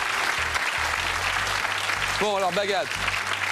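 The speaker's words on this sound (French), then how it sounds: "Applaudissements pour Victor, qui a passé une semaine avec nous à Paris." Strong audience applause for Victor, a contestant in the Questions Pour Un Champion Francophonies 2005 final, rolls on steadily while a host's voice talks over it midway.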